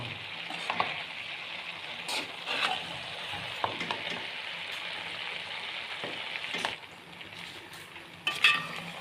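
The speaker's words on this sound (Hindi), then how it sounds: "आहिस्ता आहिस्ता से हिलाएंगे" Chicken noodles frying in a pan while being stirred slowly: a soft continuous sizzle with intermittent scraping and clinking of the utensil, close and fairly quiet, with a sharper clatter near the end.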